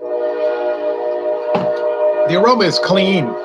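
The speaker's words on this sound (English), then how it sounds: "Here comes another train." A train's horn sounds as a steady sustained tone through the whole clip, near track work, while someone speaks over its end.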